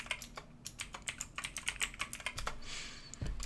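Rapid keystrokes on a computer keyboard as a password is entered, close and clear, in quick uneven bursts with brief pauses, no talking.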